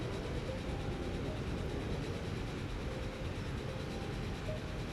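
Trains running through a busy station in Transport Fever 2, a steady low rumble of rolling wagons with a broad hiss on top, constant and even throughout with no talk.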